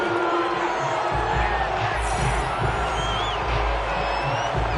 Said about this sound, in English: Plenty of shouts for this crowd as they watch the